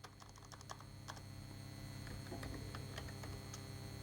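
Quiet clicks on a computer keyboard as a command is typed, an irregular run of light taps over a low steady hum, close and faint.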